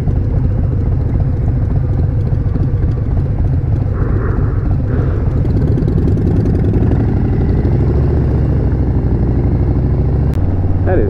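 Motorcycle engine idling at around 850 to 900 rpm, a loud close rhythmic low putter that stays steady for about eleven seconds with a faint higher whine briefly rising partway through.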